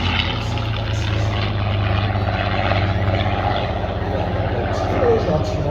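Vintage propeller aircraft flying slowly at a night air show at Méaulte, a steady droning engine roar filling the whole stretch without a break, loud and continuous with no clear speech.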